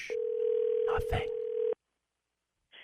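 Steady single-pitch telephone tone on a call, loud and continuous for nearly two seconds with a voice cutting in over its middle, then silence before a brief return.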